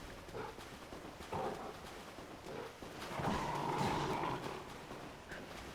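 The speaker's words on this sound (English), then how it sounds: "I hear a dog." A dog in the video game Dark Souls III barks faintly and intermittently in the distance against a steady, noisy game backdrop.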